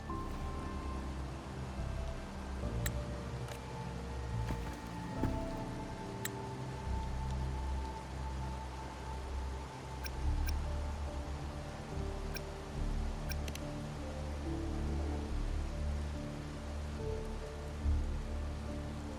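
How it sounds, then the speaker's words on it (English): Steady rain in the video game Wuthering Waves patters on a surface throughout, a continuous soft hiss dotted with occasional sharper ticks of drops, with no talking. "when it rains like this, we hide."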